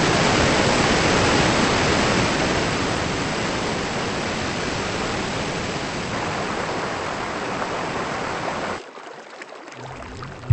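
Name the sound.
Somavahini river flowing into Bhadra dam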